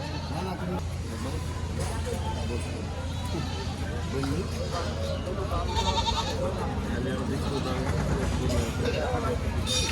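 Goats bleat repeatedly amid the crowd noise of a busy livestock market at Rustampur haat in Rajshahi, with several close calls rising over steady talk and babble.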